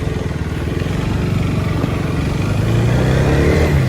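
Car engine pulling hard while driving, a loud steady drone that climbs in pitch toward the end as the vehicle accelerates.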